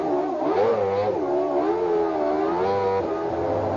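A car engine revs up to the limiter at Silverstone circuit and holds a rising, steady drone close by, its pitch climbing and wavering as it pulls away.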